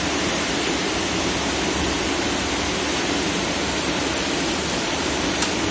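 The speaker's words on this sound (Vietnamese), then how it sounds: "trời đang mưa to quá nên là anh em sẽ không nghe rõ" Heavy rain pours down steadily outdoors, a dense, continuous hiss close by with no break over the whole stretch, loud and alone.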